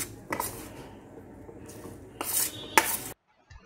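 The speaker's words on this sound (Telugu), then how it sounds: "ఇలా పిండంతా వేసుకొని బాగా కలిపేసుకొని మూత పెట్టేసి" Jowar flour is stirred into a pot of hot water with a metal utensil, giving several scraping and clinking strokes against the pot, close and fairly loud, with brief pauses between bursts.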